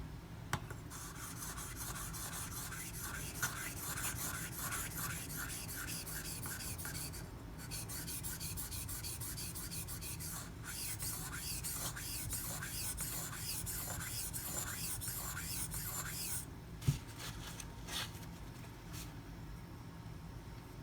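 Ganzo FH51 knife blade being sharpened on a 1200 grit stone with a Razor Edge System angle guide, producing soft rhythmic rasping strokes, close and quiet, repeating steadily with brief pauses.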